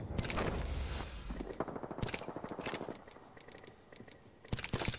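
Video game gunfire crackles in rapid automatic bursts, sharp repeated shots broken by brief pauses, loud and close, with no voices.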